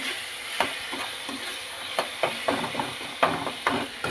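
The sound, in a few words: spices frying with cumin powder and green chili paste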